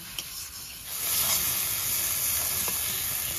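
Masala spices for fish kalia fry and sizzle in a pan, a steady broadband crackle that swells louder after the first second and holds, with faint stirring scrapes underneath and no talk.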